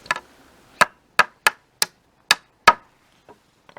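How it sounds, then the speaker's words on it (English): Six sharp hammer blows on a nail into pallet wood, spaced roughly evenly, then a couple of fainter taps; quiet between strikes. "Okay, just take your hammer,"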